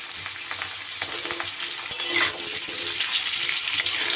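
Potato and pumpkin pieces fry in a pan, a steady close sizzle broken up by repeated scraping stirs of a spatula, with no voices.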